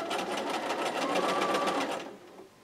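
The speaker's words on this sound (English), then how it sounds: "I'm just going to start sewing." A sewing machine stitching a quilt runs fast and close with an even, rapid whirring rhythm for about two seconds, then winds down and stops.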